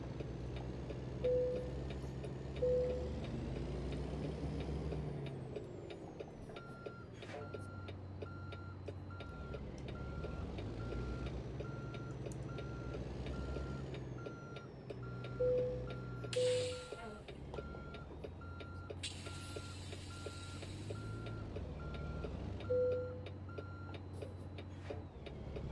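Simulated truck engine from American Truck Simulator drones low and steady throughout, with shifting pitch as it maneuvers, periodic beeping tones and a few brief louder bursts over the running engine.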